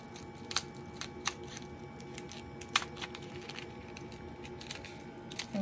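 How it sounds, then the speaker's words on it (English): Scissors snipping through a stiff straw hat in sharp, irregular clicks, close and fairly quiet against a low background hum. "you just want to put your scissors right in the middle there"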